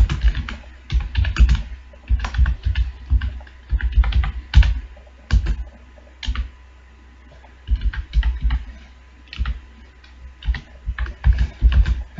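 Code being typed on a computer keyboard in bursts of quick, close clicking keystrokes with short pauses between runs, no talking over it.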